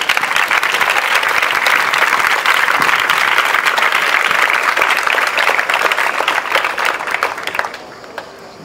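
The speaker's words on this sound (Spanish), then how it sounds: "Un aplauso para Vicente." An audience at a regional library poetry reading applauds the poet Vicente Cervera with loud, dense, sustained clapping that holds strong for several seconds before tapering off abruptly near the end.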